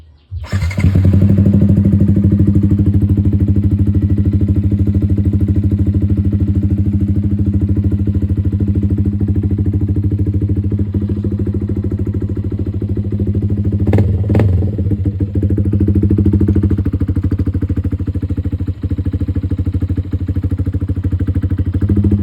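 A Sniper 155 motorcycle engine with a DIY welded exhaust elbow extension idles steadily for over twenty seconds, loud and close, with a deep continuous rumble and a brief blip of revving partway through.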